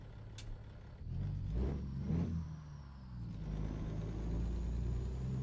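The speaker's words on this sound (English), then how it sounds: "Does the engine sound loud enough for you guys?" A truck engine in American Truck Simulator hums and rumbles steadily at low pitch, rising a little as it revs for about five seconds, with no talking over it.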